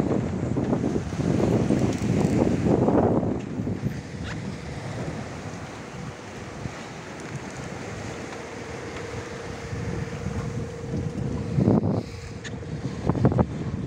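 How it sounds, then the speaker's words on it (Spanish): Steady wind rushes over a sailboat running with a tailwind on flat water off Cabo de Gata, a broad continuous hiss with low gusty swells that rise and fall, no voices. "viento de popa y agua plana"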